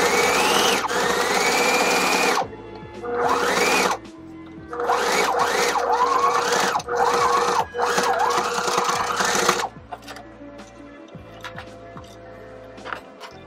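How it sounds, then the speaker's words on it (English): A sewing machine stitches a jeans waistband in several loud, whirring runs separated by short pauses, its motor pitch rising and falling as it speeds up and slows, then fading to softer handling sounds. "Now I'm gonna go onto the other side of the band here and I'm gonna stitch this up now."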